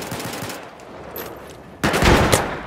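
Bursts of rapid gunfire in the video game Battlefield 4, a SCAR-H rifle, a quieter rattle first and then a loud, sharp volley near the end.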